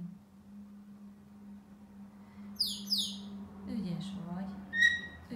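A pet parrot gives several sharp, close whistles and chirps over a steady low background hum, with soft vocalizing between the calls.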